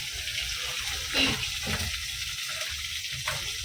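A fish head frying in hot oil, a steady close sizzle with brief louder bursts and a faint scrape or two as it is turned, with no voices.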